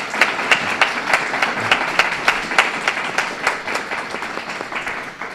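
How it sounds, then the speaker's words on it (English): At a candidate forum, a small audience applauds the candidates in a steady run of distinct, evenly paced claps, moderately loud and close, continuing for several seconds before easing off. "A big round of applause,"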